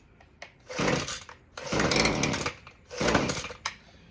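A new Husqvarna 130L weed eater is pull-started three times: each cord pull brings a loud, rasping burst of engine cranking that lasts about half a second to a second, separated by quiet pauses and small clicks.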